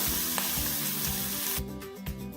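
Capsicum cooking in a frying pan makes a continuous hissing sizzle with a low hum underneath; the noise drops sharply partway through, leaving quieter, sputtering sizzle.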